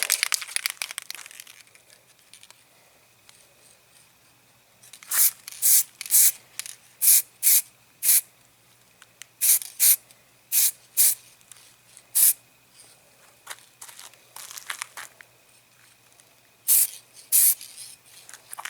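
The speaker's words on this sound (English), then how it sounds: "I believe the spray is going on the lens of the camera" Aerosol spray paint, red, sprayed onto a Matchbox Kingsize Scammell tipper model's cab and chassis, hissing in a long opening burst, then many short sharp sprays in quick bursts with brief gaps, close and loud.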